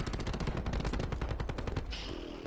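Submachine gun fire in the video game Call of Duty: Black Ops 4, a loud, continuous rapid burst of shots that stops just before the end, leaving a brief tail.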